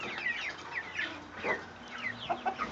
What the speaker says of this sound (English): That's why Clay was saying one chicken because we still have all these guys that we have to weed through this herd